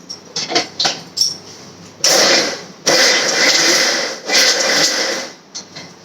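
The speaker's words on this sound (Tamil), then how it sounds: "சின்ன வெங்காயம் ஒரு பத்து வெங்காயம் அதையும் போட்டு அரைச்சிக்கலாம்" A kitchen mixer grinder whirs in loud bursts as it grinds garlic, ginger, about ten shallots and curry leaves for a fish curry, with short pulses at first and then longer sustained runs.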